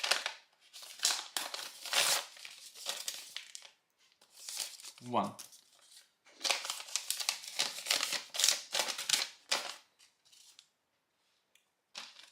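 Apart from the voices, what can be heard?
Leatherman knife slicing through a piece of paper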